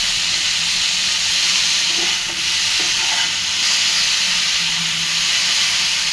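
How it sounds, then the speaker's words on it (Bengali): Okra sizzles steadily in hot oil in a pan, a loud, continuous frying hiss that holds throughout with no talking. "আর ভেন্ডিটা আমি ভেজে নিচ্ছি"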